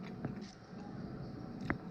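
Someone bites and chews homemade sushi made from freshly caught striped bass, with a couple of soft crunches close to the microphone amid quiet outdoor background.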